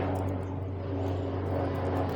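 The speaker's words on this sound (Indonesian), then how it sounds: "maaf nih suara helikopter ya" A helicopter passing overhead gives a steady, loud, droning rotor and engine rumble that holds constant throughout, with no voices.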